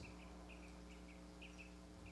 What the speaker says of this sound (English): The sound of the birds.